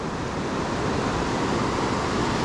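The Youghiogheny River at Ohiopyle State Park in February, heard as a steady, broad rush of flowing water, constant and fairly loud, with no voices over it.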